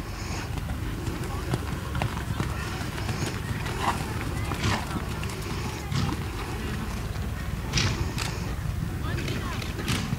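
A horse trotting at working pace during a Class A dressage test in an arena, its hoofbeats a dense, steady rhythm under continuous outdoor noise and a voice calling out the test movements.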